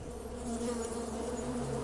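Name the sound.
bees buzzing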